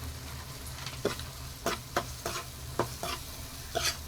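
Vegetables seasoned with salt and turmeric sizzle in a pan over low heat, with a steady fry hiss broken by about seven crisp scraping stirs spread through the few seconds.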